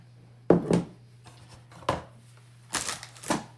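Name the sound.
stirring homemade bath salts mixture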